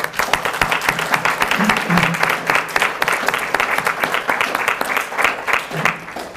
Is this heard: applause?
yes